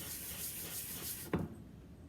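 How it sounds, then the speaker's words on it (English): Sanding a wooden hammer with 320 grit sandpaper, a steady close rasping rub that stops abruptly with a soft knock, then quiet. "So we're going to continue to sand here, 320 grit sandpaper"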